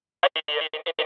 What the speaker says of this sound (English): I found this audio which has like radio communication